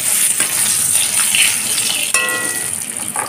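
Crushed ginger and garlic dropped into hot oil with dried chillies and kasuri methi over a low flame for Bengali chana dal, giving a bright continuous sizzle with a brief metallic clink partway through.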